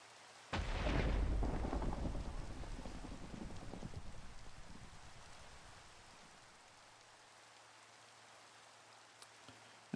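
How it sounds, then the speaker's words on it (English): A burst of rain and a rolling thunder rumble open loudly in the video game Minecraft, then steady rainfall continues more softly, with no talking. "Oh, good, it's raining."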